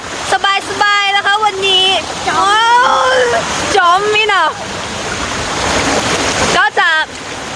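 Steady rushing water of Mae Sa waterfall fills the background as a continuous hiss, while someone talks over it in bursts near the microphone.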